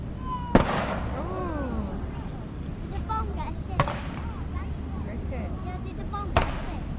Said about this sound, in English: There we are, the escorts now are returning fire.